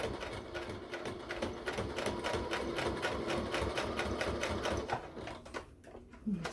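A sewing machine stitches a buttonhole on a fabric neck warmer, its needle chattering in a fast, even rhythm close by for several seconds before slowing and stopping.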